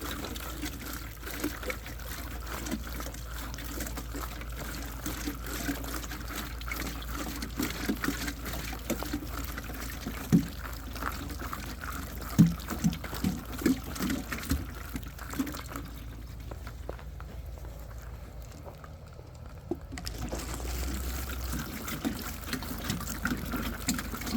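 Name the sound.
water being poured to water plants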